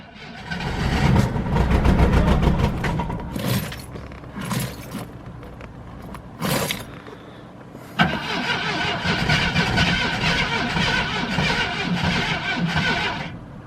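A Jeep Cherokee Pioneer cranks and fires on a cold start after sitting 24 years. The loud rough engine noise dips and catches for several seconds, then settles into a steady, harsh idle.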